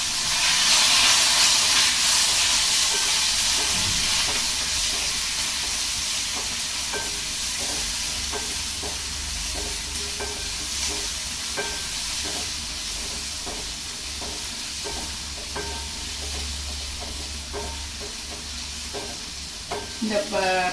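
Chopped onion frying in a pan for pumpkin chutney, a loud, steady sizzle and hiss throughout, with the scrape and tap of stirring showing up more in the second half.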